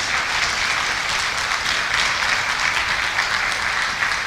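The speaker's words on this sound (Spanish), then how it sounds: "¿Cuántos le pueden dar un aplauso al Señor esta mañana?" Congregation applauding during a Spanish-language church service, with a sustained, dense wash of clapping at steady loudness throughout and no talk over it.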